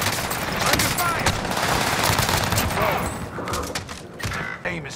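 Rapid automatic gunfire in the video game Call of Duty Warzone, loud continuous bursts of shots filling the scene with a few brief pauses, under occasional speech.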